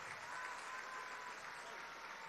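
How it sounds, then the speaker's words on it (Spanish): Applause in Venezuela's national assembly during a 2017 cabinet appointment event, a steady dense clapping from a large audience, faint and distant, continuing throughout. "Un aplauso, un saludo para estas mujeres,"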